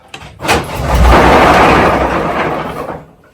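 The Napier Deltic diesel engine of locomotive 55009 is manually rolled over from the engine room, giving one loud, churning rush that swells quickly and fades away over about three seconds.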